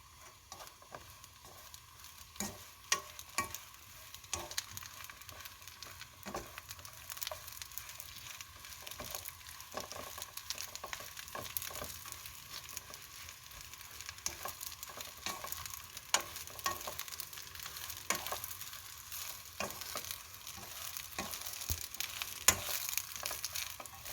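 Fish cake stir-fries in hot oil, giving a steady crackling sizzle with frequent scrapes and stirring clatter throughout, fairly close and continuous, no talk.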